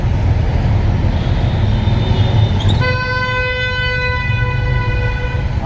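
An auto-rickshaw horn blares in a long, sustained, loud honk that starts partway through and lasts about three seconds over a constant rumble of heavy traffic.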